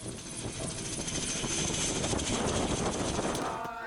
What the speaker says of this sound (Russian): Разгружая вертолет, он не выключает двигатель,